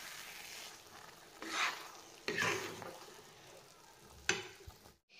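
Fried semolina being stirred in a pan after milk is added for suji barfi, with several rough scraping strokes of the spoon over a soft sizzle, each swell rising and fading, then sudden silence at the end.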